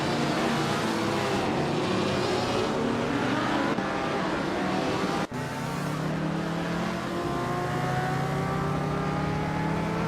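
Engines of race cars, including a 1967 Chevrolet Chevelle SS, roar steadily in a racing video game, a dense continuous drone of several cars with shifting pitches and a brief dip midway, with no talk.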